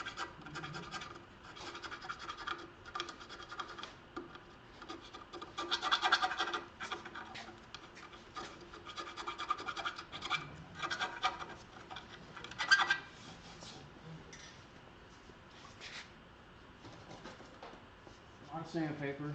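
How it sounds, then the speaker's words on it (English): Repeated rough scratching strokes of sandpaper and emery strips against a wooden yarn bowl by hand, steady and close, continuing for the whole stretch with brief pauses and a few louder passes. "it all boils down to a lot of hand sanding"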